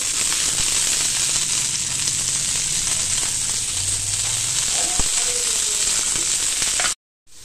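Food sizzling steadily in hot oil in a home kitchen pan, a loud, even crackle and hiss with occasional pops and faint stirring clinks, cutting off abruptly at the end.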